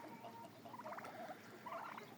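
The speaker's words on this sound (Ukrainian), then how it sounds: "у нас тут на вигулі індики бурбон" Bourbon Red turkeys in an outdoor pen give faint, soft gobbling calls in two short bursts over quiet background.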